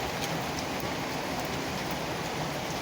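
Steady rain pouring down during the first rain of the hot summer season, a dense, continuous hiss of drops hitting surfaces close by, with no letup and no voices over it.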